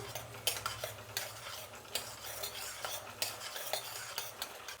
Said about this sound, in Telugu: పల్లీలు కొద్దిగా వేగిన తర్వాత పచ్చినిపప్పు వేసుకుంటున్నాను. ఇప్పుడు 2 వేయించుకుందాం.